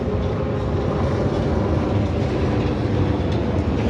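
Norfolk Southern freight train of coal cars rolling across the Delair Bridge, a steady dense low rumble and rhythmic clatter of wheels on rails, close and continuous.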